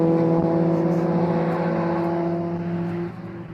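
750MC club race cars roar past on a circuit, a loud sustained engine drone with steady pitch that drops away near the end as the pack passes.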